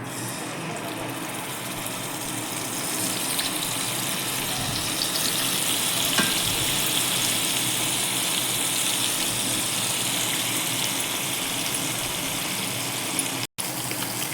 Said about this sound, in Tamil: இப்போது மீனை திருப்பி போட்டுட்டேன். இப்போது மீன் நல்லா வறுத்தாச்சு